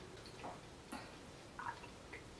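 A running ultrasonic humidifier and aroma diffuser gives off very faint, soft water ticks and drips, a few scattered light pops over a quiet hiss.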